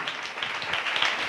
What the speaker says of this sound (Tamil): தலைக்கு மேல கூட கைத்தட்டி